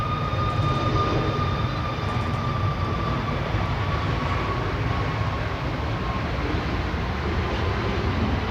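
A Ryanair jet bound for Alicante roars down the runway on its takeoff roll at Manchester Airport, a steady broadband engine rumble heard from a distance that holds level throughout, with no voices.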